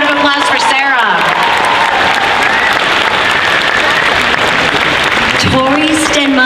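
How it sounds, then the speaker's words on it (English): Audience applause at the Dragon Con Friday night costume contest, loud sustained clapping and crowd noise filling several seconds, with an amplified announcer's voice talking over the start and end. "Big round of applause for Sarah."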